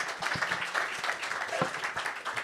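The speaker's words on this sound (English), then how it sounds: "Let's give a round of applause." A hackathon audience applauds after opening remarks, with a dense, steady patter of many hands clapping at moderate loudness and a faint voice mixed in.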